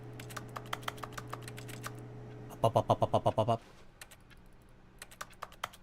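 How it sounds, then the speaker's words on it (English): A pencil sharpener in The Stanley Parable gives off a run of evenly spaced, crisp clicks and a short burst of rapid grinding ticks, with a faint hum underneath and a brief spoken word. "Why is there clicking noises on a damn pencil sharpener?"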